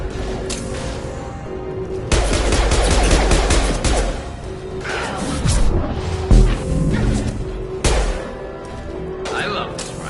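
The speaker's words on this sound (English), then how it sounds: "Firing an impact shot!" Impact-shot rifle fire in Mass Effect 2 crackles as loud, sharp bursts of gunfire with crashing hits and whooshes, clustered into several volleys, while a voice talks over the battle.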